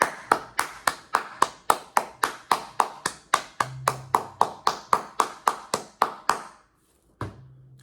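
Steady hand claps counting eighth notes in 3/4 time, about twenty even, close claps at a brisk pulse, stopping before a final single clap after a short pause.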